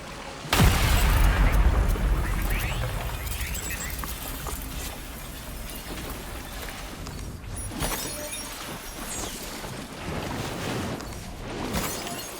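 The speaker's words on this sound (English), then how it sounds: "throw an EX capture grenade into its mouth to receive its BT crystal" In the video game Death Stranding 2, an EX capture grenade is thrown at a BT, setting off a loud shattering blast that fades into a long rumbling, watery decay with further crashes near the end.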